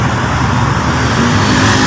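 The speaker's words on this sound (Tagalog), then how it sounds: "Ayan o, haba na ng traffic o." Road traffic jammed on a northbound road in Taytay after a collision, a loud, close, continuous rumble of idling and slowly moving cars and heavier vehicles with steady low engine drone.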